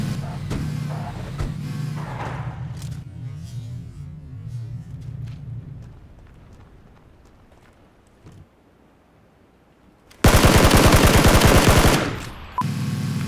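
Rapid automatic gunfire bursts from the video game PUBG Battlegrounds, a loud sustained volley after quieter mechanical game sounds, with a shorter burst following.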